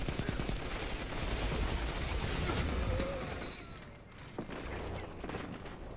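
Rapid gunfire in the Destiny 2 video game, Iron Banner weapons including a grenade launcher, with continuous bursts, booms and weapon mechanisms that thin out toward the end.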